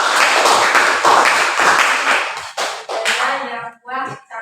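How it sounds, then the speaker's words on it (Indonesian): A class of students claps their hands together in a classroom: a few seconds of brisk, lively applause that fades as voices take over. "Oke, tepuk tangan."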